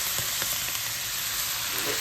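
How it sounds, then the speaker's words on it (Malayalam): Soy sauce hits a hot pan of fried rice with a loud, continuous close sizzle and faint stirring scrapes. "നമുക്കിതിലേക്ക് സോയാ സോസ് ഇച്ചിരി ഒഴിച്ചു കൊടുക്കാം"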